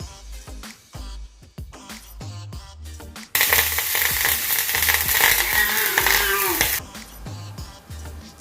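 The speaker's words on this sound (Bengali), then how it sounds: "গাজরটা একটু আমি ঘিয়ের মধ্যে ভালো করে ভেজে নেব" Grated carrot frying in melted ghee in a pan over medium-low heat, a loud steady sizzle that bursts in abruptly and holds for several seconds amid clinks and stirring scrapes before cutting off.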